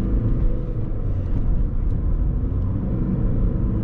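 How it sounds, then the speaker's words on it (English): A VW Polo V with a 1.6 TDI 90 hp diesel and 7-speed DSG in sport mode accelerates on the road. It gives a steady, heavy low rumble of engine and road noise from inside the cabin with no talking. "This engine has a push, nice push for a 90 horsepower."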